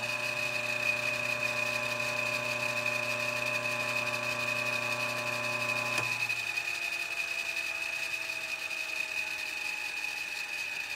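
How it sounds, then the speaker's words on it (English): A synchronous motor taken from a 35mm projector runs on its own, giving a steady electric hum with a high whine; about midway the low hum drops away and a falling tone suggests it winding down. "Here's the motor running just by itself,"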